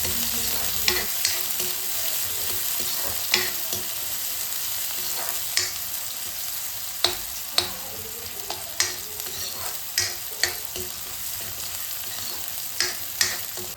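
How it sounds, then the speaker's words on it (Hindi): Onion and green chillies frying in mustard seed oil give a steady sizzle, broken by sharp spatula scrapes and clicks against the pan every second or so as they are stirred. "और इसको अच्छे से भूनने देंगे जब तक प्याज अच्छे से गोल्डन कलर की ना हो जाए।"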